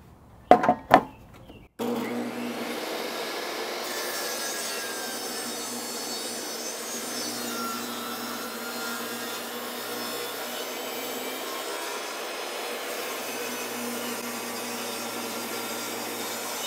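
DeWALT power saw, run from an Anker 757 power station, cuts through wood with a steady continuous whine and rasp that lasts about fifteen seconds, close up, after a couple of sharp clicks as it starts.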